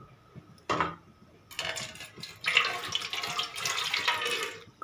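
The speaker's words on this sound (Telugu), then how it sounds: "కొన్ని వాటర్ పోసుకోవాలి, ఒక గ్లాసుడు." A glass of water poured into an idli cooker, splashing in short uneven bursts with a faint clink near the start.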